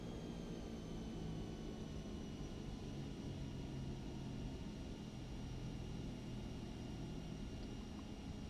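An Epic single-engine turboprop in the X-Plane 11 flight simulator rolls for takeoff, a steady, moderately loud engine drone with a rising whine, heard continuously without speech.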